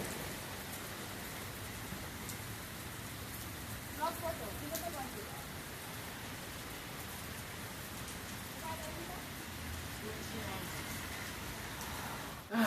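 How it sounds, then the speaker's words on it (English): Steady rain falls at night, a dense, even hiss of drops on surfaces that holds at a moderate level throughout, with faint distant voices briefly under it. "Still raining out."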